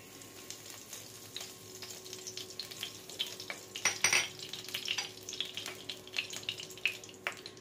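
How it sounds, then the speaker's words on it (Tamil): Mixed herbs hit hot oil in a kadai for spicy hotel-style noodles, giving a close, crackling sizzle that swells into a brief louder burst midway, then keeps popping unevenly. "எண்ணெய் சூடு வந்ததுக்கப்புறமா மிக்சர் ஹர்ப்ஸ் ஆட் பண்ணிக்கலாம்"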